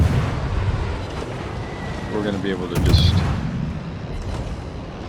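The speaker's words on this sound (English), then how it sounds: "Kremlin goes down to gunfire from the Shima." Naval gunfire from a warship in a naval combat video game, with heavy booming salvos that swell in the middle of the clip and a voice talking over the battle noise.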